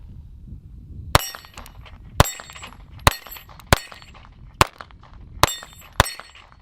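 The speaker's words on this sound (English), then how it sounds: "So anyways, I'll try to shoot a few rounds through it," Seven sharp shots from a Springfield 911 .380 pistol ring out at uneven intervals, each a loud, close crack with a brief metallic ring, separated by quiet outdoor background.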